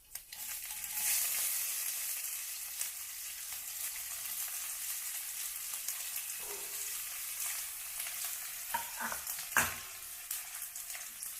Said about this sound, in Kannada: ಎಣ್ಣೆ ಕಾಯಿಲಿ ಸ್ವಲ್ಪ ಕಾದಿದೆ ಸಾಸಿವೆ ಜೀರಿಗೆ ಹಾಕ್ಕೊತೀನಿ ಆಮೇಲೆ ಸ್ವಲ್ಪ ಕರಿಬೇವು ಈರುಳ್ಳಿ ಹಾಕ್ಕೊತೀನಿ